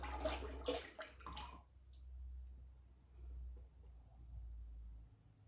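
An object is dipped whole into a liquid bath to strip the enamel from its base, giving a faint, brief watery slosh in the first couple of seconds, then near silence over a low hum.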